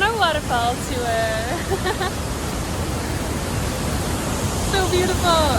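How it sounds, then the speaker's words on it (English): A Bali waterfall pours with a loud, continuous broadband roar, while bird chirps and voices come through faintly over the rushing water. "Stop number 1 on our waterfall tour."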